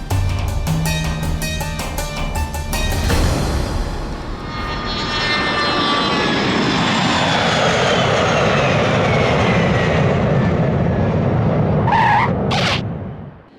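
A chartered fixed-wing airplane's engine roars steadily for several seconds, a broad loud drone with a rising whine, after a brief burst of music at the start.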